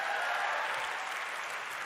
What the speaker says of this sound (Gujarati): જ્યારે અહીંયા હજારો તાળી પાડે